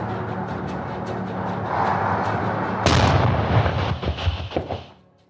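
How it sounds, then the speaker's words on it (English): A heavy explosion at an enemy military base, a sudden deep boom breaking over a rumbling roar, followed by rolling, crackling after-blasts that fade out over several seconds. "An explosion thundered at a closed enemy military base in the area of the air town."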